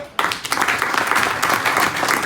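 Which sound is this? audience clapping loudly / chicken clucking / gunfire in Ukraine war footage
audience clapping loudly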